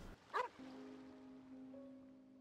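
A puppy in the Genshin Impact video game gives one short sharp bark, followed by a soft, fading tonal whine over quiet background.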